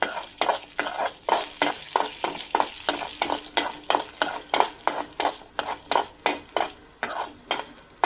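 Chutney ingredients for a mint and coriander chutney fried and stirred in a pan until golden, a steady sizzle broken by regular rhythmic scrapes and taps of the spoon, close and clear, no talking.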